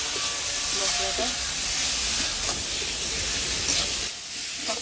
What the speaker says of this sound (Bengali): লঙ্কা জিরে আদা রসুন বাটা দিয়ে দিলাম, হলুদ দিয়ে দিলাম, নুন দিয়ে দিলাম। কষিয়ে নেব